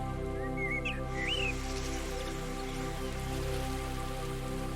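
Rain falls steadily in a calm scene after a storm, a soft even patter beneath a sustained droning musical tone, with a couple of brief bird chirps early on.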